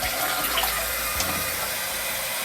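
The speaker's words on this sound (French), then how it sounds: "C'est la chasse d'eau." A toilet flushes with a loud, continuous rush of water that fills the space, steady throughout with a brief clunk partway in.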